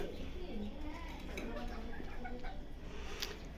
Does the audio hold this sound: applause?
no